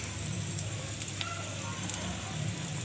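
A cauliflower paratha sizzles steadily on a hot griddle as its second side cooks, a constant close frying hiss with faint crackles and no talking.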